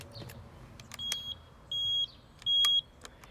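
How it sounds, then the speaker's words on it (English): A homemade turn signal buzzer on a Yamaha XT dual-sport motorcycle gives three clear, high-pitched electronic beeps at an even rhythm, each lasting about a third of a second, over quiet background noise and a few clicks. "Then behind the headlight, I have my DIY turn signal buzzer."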